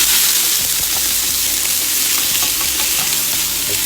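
Chili ingredients sizzle loudly in a pot over medium-high heat, a constant close hiss and crackle with occasional stirring scrapes, no voices.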